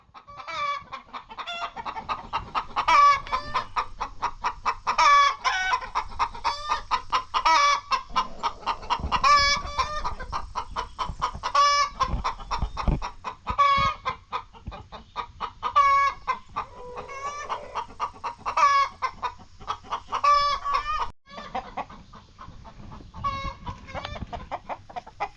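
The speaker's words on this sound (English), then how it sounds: "You're a scary chicken." A chicken clucks continuously at close range in rapid, chattering bursts, with louder squawks rising over the stream of clucks; no talk.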